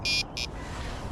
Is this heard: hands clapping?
no